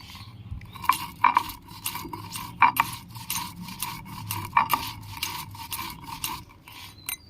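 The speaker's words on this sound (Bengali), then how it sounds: "ভাজা মশলাগুলো আমি বেটে নিচ্ছি বেশি মিহি করে বাটবো না একটু দানা দানা থাকবে" Roasted spices are ground by hand into a coarse paste, giving soft rhythmic grinding and rubbing strokes with scattered sharper scrapes. It is close and fairly quiet throughout.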